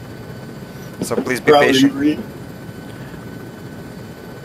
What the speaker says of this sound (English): Who's in the chopper with me right now?